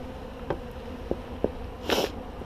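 A low, steady buzzing of honeybees swarming around an open hive, with a few brief, louder passes as bees fly close by.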